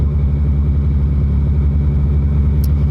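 A 2019 Yamaha MT-09 motorcycle engine runs steadily at low revs, a loud, close, even rumble that holds without any strong rev climb.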